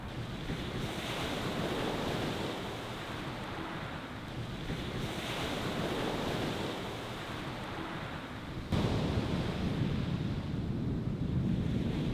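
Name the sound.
strong wind by the sea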